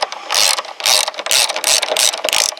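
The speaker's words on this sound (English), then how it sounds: "So now let's go ahead and take out this 8mm bolt right there." Ratchet loosening an 8mm bolt on the door panel of a 2000 Ford Expedition, a rapid close clicking in five or six quick bursts of a few strokes each, loud and alone.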